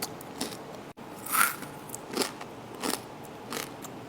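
Crispy baked homemade kunafa pastry is bitten into, giving a few sharp crunches spaced a second or so apart, close and clear against a quiet background.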